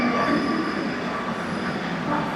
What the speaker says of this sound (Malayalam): സോ മെട്രോ വന്നിരിക്കുന്നു